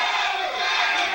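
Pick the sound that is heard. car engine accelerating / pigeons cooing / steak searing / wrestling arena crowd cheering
wrestling arena crowd cheering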